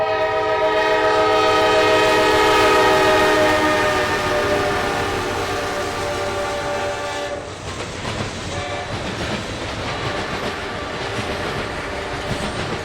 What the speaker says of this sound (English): Our first catch of the day was a manifest headed towards Birmingham, led by a pair of